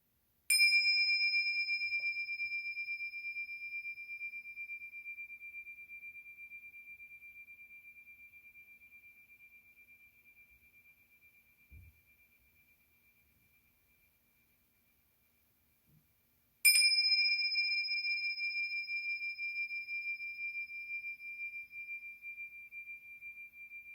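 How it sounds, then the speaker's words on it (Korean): A meditation bell is struck twice, about sixteen seconds apart, each a clear ringing tone that decays slowly into near silence. "종소리에 잠깐 마음 모으는 시간을 갖도록 하겠습니다"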